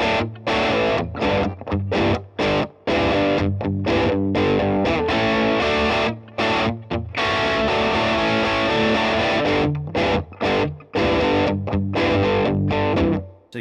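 Les Paul electric guitar played through an amp with a lesser overdriven tone and reverb switched off, loud distorted chords and riffs in choppy bursts separated by short silences.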